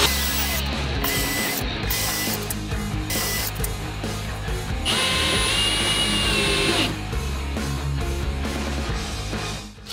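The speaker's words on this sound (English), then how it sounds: "I'm gonna screw it in place with a couple of screws over here and over there" Screws are driven into the base of a wooden shop cart with a power driver, producing repeated close mechanical whirring and ratcheting bursts with short pauses between them.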